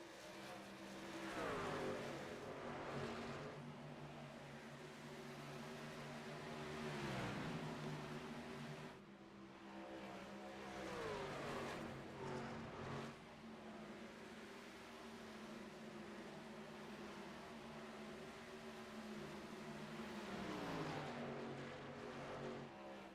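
Racing trucks in a truck series race, a pack of six running close together, with steady engine roar and rising and falling revs as the trucks pass, no talk.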